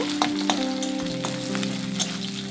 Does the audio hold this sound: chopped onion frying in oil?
yes